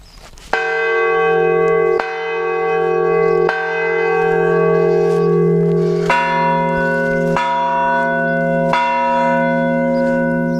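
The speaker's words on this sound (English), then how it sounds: "How often do you get to ring the bells at a monastery?" Monastery church bells rung by hand, a series of loud, near, ringing bell strikes with long sustained tones overlapping as each new stroke lands, about six strikes in succession.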